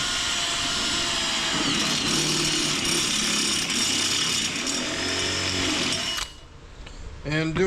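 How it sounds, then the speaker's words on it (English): Power drill boring a half inch hole in a workpiece clamped in a saw vise, a loud steady whine for about six seconds before the bit stops, followed by a brief spoken voice. "So I got 7 more of those to drill"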